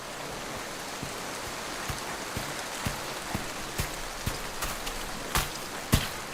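Steady rain falls outside a cabin in a forest setting, a dense even hiss with scattered heavier drops and drips tapping at irregular intervals, heard without any voices.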